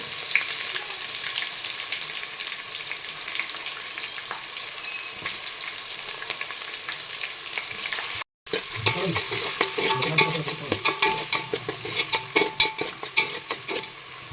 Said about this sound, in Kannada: ಈರುಳ್ಳಿ ಹಾಗೆ ಟೊಮೆಟೊ ತುಂಬ ಚೆನ್ನಾಗಿ ಫ್ರೈ ಆಗಬೇಕು